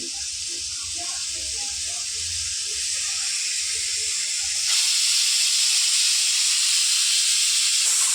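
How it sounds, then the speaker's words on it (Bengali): Chickpeas boil in a covered pot, giving off a steady loud steam hiss that swells and brightens midway, while a voice talks over the first half. "আর এই যে ছোলা সেদ্ধ হচ্ছে"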